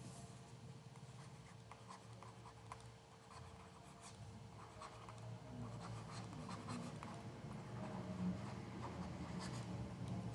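Handwriting on paper as a math answer is written out during a physics lesson, a steady faint scratching of pen strokes with small taps, continuous and close, no talking over it.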